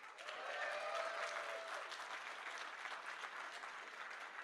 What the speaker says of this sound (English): So round of applause for Razer.